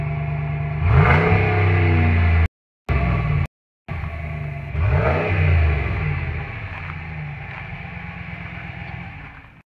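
A 2015 Ram pickup truck engine fires up and revs several times, loud deep surges over a steady rumbling idle, heard up close with no talking.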